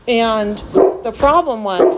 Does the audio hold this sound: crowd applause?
no